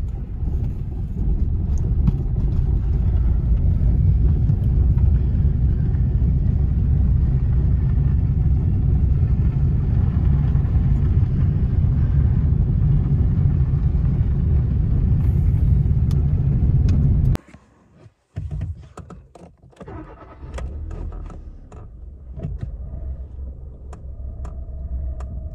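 A car engine rumbles loudly and steadily from inside the cabin while driving, then cuts abruptly to near quiet, followed by softer engine sound and faint knocks.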